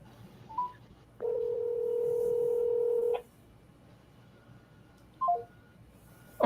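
Telephone tones sound after a call is hung up: a short beep, then a steady held tone lasting about two seconds, followed by a few quick beeps, all faint and alone against quiet background.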